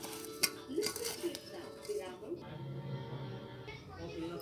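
Ingredients are stirred in a pot, with metal utensils clinking and scraping softly against the sides under quiet background noise.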